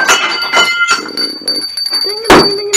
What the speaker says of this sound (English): Oh, I like that bell.